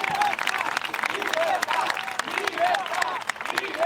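Political rally crowd cheering and applauding during a politician's speech, a busy mix of clapping and shouted voices that rises and falls in waves, with voices carrying over it.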